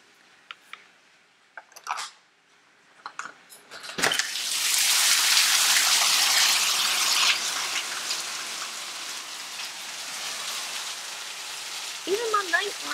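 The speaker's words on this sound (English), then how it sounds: "rain is, it was coming in sideways, but my yard is flooding." Heavy rain pours steadily onto a flooding yard, a loud continuous wash that starts abruptly and persists, with a few brief voices and noises before it and a voice near the end.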